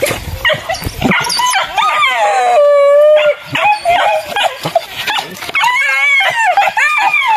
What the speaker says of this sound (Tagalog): Oh, grabe mga aso.